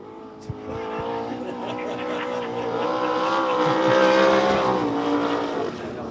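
Race cars run at Devil's Bowl Speedway during a dirt-track special event, a steady engine drone building slightly louder then easing as a car circles, with faint announcer-like voice underneath.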